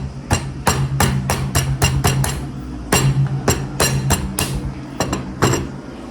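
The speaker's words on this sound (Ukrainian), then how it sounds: "Треба молоточку взяти і спробувати." Repeated sharp hammer blows strike something hard, coming in quick irregular bursts with short pauses between, loud and close.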